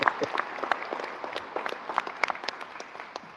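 Scattered audience applause at a local community gathering, with separate claps standing out from a softer background of clapping and crowd murmur, fairly quiet and gradually thinning out.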